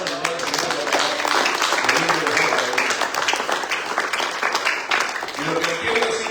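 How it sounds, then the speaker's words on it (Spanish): A church congregation applauds together in a dense, sustained burst of clapping, with voices and cheering mixed in and a few talking voices near the end. "Y un aplauso al Señor."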